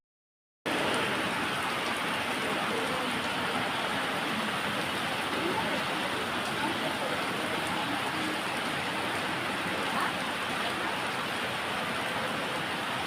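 Heavy morning rain pours down in a steady, dense hiss that starts after a brief silent moment and continues without a break, loud and close.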